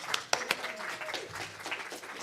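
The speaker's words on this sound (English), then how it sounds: "let's give them a big round of applause" A live audience gives a short round of applause to welcome a band back on stage, a dense burst of clapping that swells and fades within a couple of seconds.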